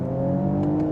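Engine of a 2020 Mercedes-AMG GLE 53 Coupe holds a steady, loud droning tone with a couple of faint crackling exhaust pops near the end.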